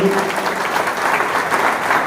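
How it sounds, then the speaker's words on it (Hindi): A crowd at a scholarship award ceremony in Tinsukia applauds a school, a loud, continuous roar of clapping from many hands filling the brief two-second stretch. "एक बार स्कूल के लिए बहुत जोरदार तालियां"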